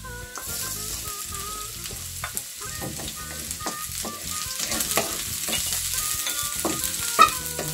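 Ginger frying in a pan for a clam and shrimp tinola, a close crackling sizzle with repeated stirring scrapes and clinks throughout, rising slightly toward the end, no one speaking.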